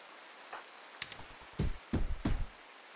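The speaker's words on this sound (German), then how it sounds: "Mann, jetzt macht er wieder meine geile Tür kaputt." A pawn bashing at a door in the video game Rimworld, a quick series of dull knocking thuds, a few light taps followed by three heavier blows, fairly close against a quiet background.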